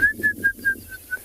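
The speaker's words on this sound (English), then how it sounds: "Hear a bearded woodpecker." Bearded woodpecker calling on a sunrise safari near a stream where hippos rest, a series of six short, clear piping notes evenly spaced at a steady rhythm, fairly close and alone.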